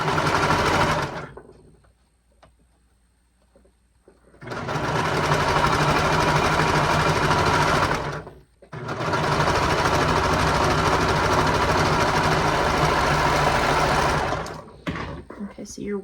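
A sewing machine runs in two long steady bursts while stitching a romper side seam, about four and eight seconds each, separated by brief pauses and a quiet start, with small handling noises at the end.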